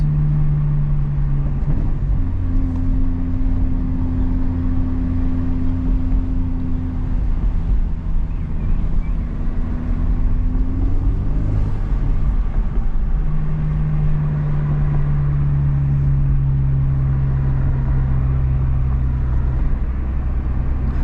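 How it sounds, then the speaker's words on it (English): Exhaust of a Honda Civic Type R FL5 with a front resonator delete and the exhaust valve open, otherwise stock, droning steadily from the cabin through a continuous drive with pitch rising and falling as the engine works through the gears. "this is a resonator delete on the front with the valve open. Stock exhaust otherwise."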